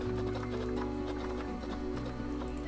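Przewalski's horse in Planet Zoo, with steady hoof clip-clop and snorting under a continuous drone of game ambience and music, quiet and unbroken throughout.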